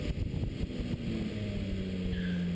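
A Porsche Cayman S engine and exhaust hum steadily from inside the car while driving, a muffled low drone with a sustained tone, fairly loud and continuous, no talking.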